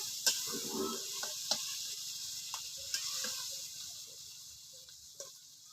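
Prawns simmer and are stirred in a pan with milk gravy, giving a soft, continuous hiss. A few sharp clicks of a utensil against the pan cut through now and then.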